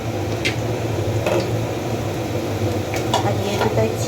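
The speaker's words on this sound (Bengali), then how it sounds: "এই এখন চিকেন রান্না করছি" Chicken cooks in a pan with a steady, close sizzle and frying hiss, broken by a few light scrapes and taps of stirring.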